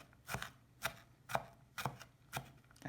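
A knife chopping leek into mince on a cutting board, five evenly spaced crisp thuds about half a second apart, close and clear with nothing else audible.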